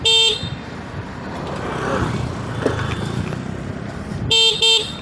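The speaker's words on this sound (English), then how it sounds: "let me quickly guide you to the horn as well" Two short bright horn beeps from an Evtric Rise electric bike sound at the start and end, with a low vehicle hum and road rumble running steadily between them.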